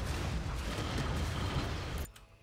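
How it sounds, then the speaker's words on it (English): Missiles launch and explode in Stranded: Alien Dawn as a dense, roaring barrage of blasts that cuts off sharply and leaves a faint tail. No one speaks. "Missiles away."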